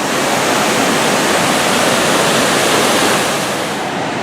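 Water from Vickery Creek falls pounds steadily into the pool at the base, a dense, loud, unbroken roar with no pauses or voices.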